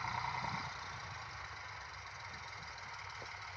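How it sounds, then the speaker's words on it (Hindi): Farm tractors, an Eicher 485 and a John Deere 5210, run in the field with a steady, close diesel drone and low rumble throughout. No one speaks. "इधर ही इधर भाई 4 ट्रैक्टर चल रहा है।"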